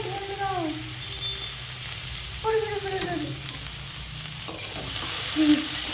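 Onions sizzle steadily in a pan for chow mein while being stirred, and a voice briefly speaks over the frying.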